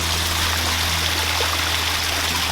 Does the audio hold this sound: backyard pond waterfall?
yes